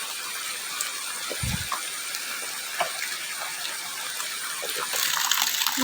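Continuous rush of water being poured, steady and close, with a brief low thump early on and the flow swelling louder near the end.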